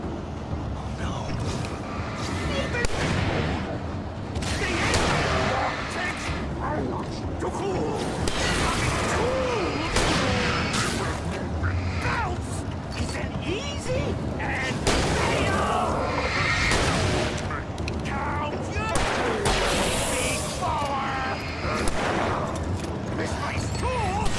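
Gunshots in the video game Alan Wake ring out in bursts within a dense, noisy fight scene full of clatter and creaking, loud and close, while someone talks throughout.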